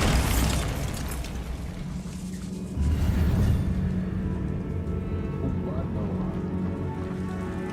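A Bombarda spell blasts in Hogwarts Legacy, a loud booming burst with rumbling debris and crackle, set in a dense game soundscape with a voice over it.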